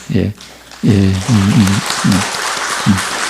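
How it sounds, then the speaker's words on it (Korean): Steady applause from a church congregation at a Sunday worship service rises and carries on beneath several voices speaking loudly over it. "박수로 격려하겠습니다"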